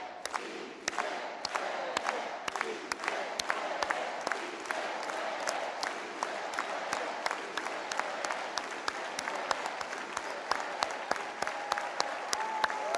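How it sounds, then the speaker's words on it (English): A large audience at an AFT award ceremony for Dolores Huerta claps in unison, steady rhythmic hand claps repeating roughly twice a second over a continuous crowd roar, loud and sustained throughout. "we'll do it all together with an organized hand clap"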